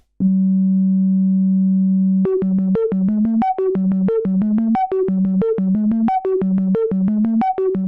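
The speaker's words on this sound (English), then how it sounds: "so this is our sine wave running through the 2251 low pass." A steady pure sine-wave tone from a discrete VCO through a 2251 low-pass filter holds for about two seconds, then a rapid repeating sequence of clean, soft-edged notes plays in a looping pattern, loud and close.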